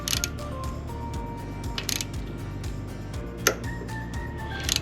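A 1/4-inch torque wrench drawing cylinder bolts up to 120 inch-pounds on a CRF110 fitted with a 132cc big bore kit: rapid close ratcheting clicks in bursts, with occasional metallic clinks against a low hum.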